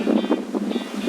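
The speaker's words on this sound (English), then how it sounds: "It's so windy." Gusty outdoor wind buffets the microphone in England, a rough, fluttering rumble that pulses unevenly through the short moment with no voices.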